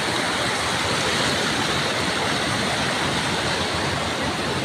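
Cambugahay Falls in Siquijor pours in a dense, steady roar of falling water, loud and unbroken throughout with no voices over it.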